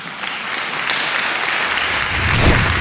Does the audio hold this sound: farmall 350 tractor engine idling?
no